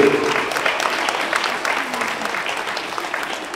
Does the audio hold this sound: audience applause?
yes